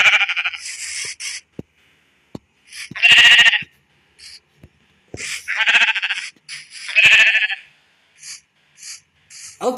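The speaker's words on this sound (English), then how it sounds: "Looks like I'll be spawning some sheep." Sheep in a video game bleat repeatedly, loud close-up baas in separate bursts with short clicks and game sounds in between.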